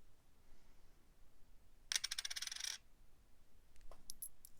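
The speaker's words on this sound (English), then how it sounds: "That puts us up to 4 silver coins." A cascade of metal coins rattles and clinks briefly as it is dropped during sorting, followed moments later by a few scattered single clinks in a quiet room.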